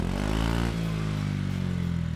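A Honda ADV160 scooter idles through a JMCA-certified aftermarket muffler, giving a steady, close, low rumbling exhaust note with a brief clunk early on.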